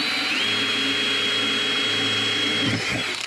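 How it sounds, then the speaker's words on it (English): A power drill bores holes through a sailboat's cabin top with a steady high-pitched whine, loud and close, bogging slightly near the end as the bit works through. "Now it's just gonna matter of drilling the holes."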